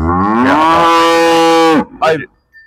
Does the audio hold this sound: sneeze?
no